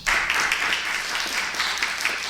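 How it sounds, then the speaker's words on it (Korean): A church congregation breaks into applause during a New Year's Day Sunday sermon, a sustained, even wash of many hands clapping together. "우리 설교 시간이지만 박수 한번 드리시죠."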